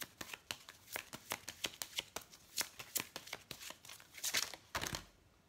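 Guidance cards are shuffled by hand in a quick run of crisp, riffling flicks, close and clear with no talking.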